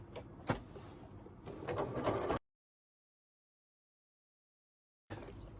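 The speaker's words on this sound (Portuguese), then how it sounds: "E aqui eu vou fazer uma costura, tá? De pesponto." A domestic sewing machine topstitches a fabric phone holder in a short rising whirring run, then cuts to silence before the motor sound resumes briefly.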